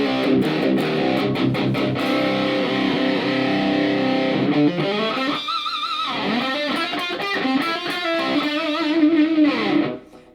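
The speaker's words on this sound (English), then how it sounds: "the distortion on the MXR is up almost halfway." An electric guitar runs through an MXR distortion pedal with the gain about halfway, played with sustained chords and bending notes, loud and saturated, ending in a quick fade.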